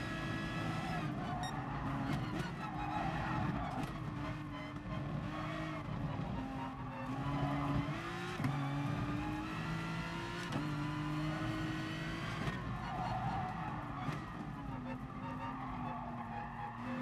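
Race car tyres skid and squeal through corners with heavy understeer in the racing game GT Sport, over a steady, loud engine drone that runs continuously with no break.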